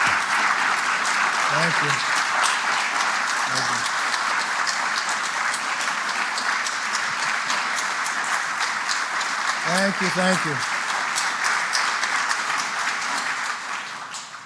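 Sustained audience applause fills the trading-floor hall at the New York Stock Exchange for the House Speaker, loud and steady throughout, with someone briefly speaking over it several times.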